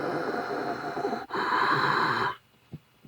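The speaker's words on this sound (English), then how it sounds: "Of course, you hear his breathing." Darth Vader's mechanical respirator breathing from Star Wars: a hoarse, hissing inhale-exhale pair, loud and close, each breath about a second long, followed by near silence with a faint soft thump.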